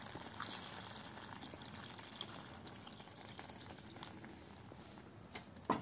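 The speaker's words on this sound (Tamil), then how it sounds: "இப்போ வந்து நம்ம 2 கிளாஸ் அளவு தண்ணி ஊற்றிக்கலாம்." Water pours in a soft, continuous splashing stream into a cooking pot while vendakka kaara kuzhambu is being made, faint and close with no talk over it.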